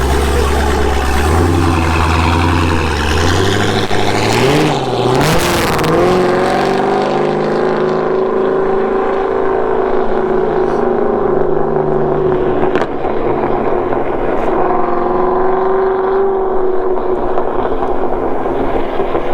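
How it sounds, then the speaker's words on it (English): A loud supercharged car engine runs and revs continuously, a sustained high blower whine riding over the rumbling exhaust throughout. "See if we can hear that blower whine"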